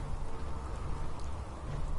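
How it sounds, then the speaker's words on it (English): Steady rainfall in the video game FallGrim 4, a continuous soft hiss of falling rain with a low rumble beneath, even and unbroken throughout. "Raining again."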